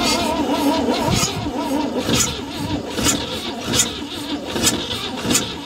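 An old 1961 Chevy ranch truck engine cranks over repeatedly, a rhythmic churning starter whir with regular pulses roughly every 0.8 seconds, close and loud, without catching.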